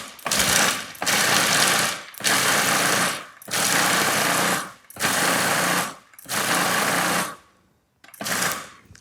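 Blender pulsing parsley and walnuts for pesto: six loud, close bursts of whirring blade noise, each about a second long, separated by brief pauses, with a shorter seventh burst at the end.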